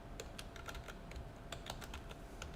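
Quiet, rapid typing on a computer keyboard while entering commands, a quick irregular run of light key clicks over soft room hiss, close but faint.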